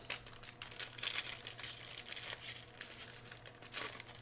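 Packing paper crumples and crinkles continuously while baseball card packs are opened, a steady close rustle with brief louder bursts and no voices.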